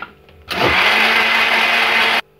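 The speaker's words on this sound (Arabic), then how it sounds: "نزيدو عاود شوية ديال سنيدة وعاود نطحنو." A kitchen blender grinds sugar for a chocolate cake batter, starting abruptly after a brief quiet moment, then running at a steady, loud, high whirring pitch for nearly two seconds before cutting off sharply.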